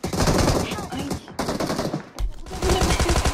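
Rapid automatic gunfire in the PUBG Mobile game, loud and dense, with bursts of rattling shots broken by two brief pauses, mixed with game sounds.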